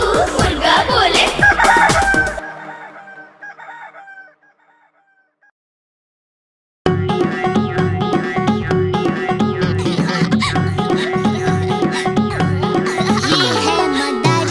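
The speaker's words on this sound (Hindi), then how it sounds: "कुकड़ूकू कुकड़ूकू, मुर्गा बोले" A rooster crows loudly up close and fades out, then after a brief silence a busy musical backing starts up.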